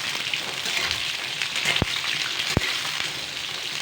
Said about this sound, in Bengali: ভালো করে পটলগুলো এখন সোনালি আকারের করে ভেজে নেব আমি